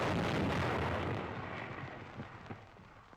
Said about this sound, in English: the gun is fired.